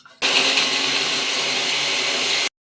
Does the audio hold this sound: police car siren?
no